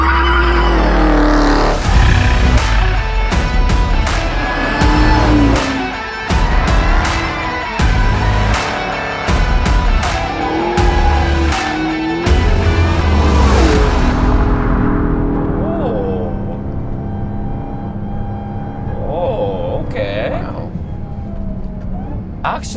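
A Dodge Challenger Red-Eye being drifted, its loud engine roaring in repeated bursts with tire squeal, close and mixed under steady talking throughout.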